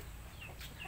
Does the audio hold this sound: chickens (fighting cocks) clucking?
yes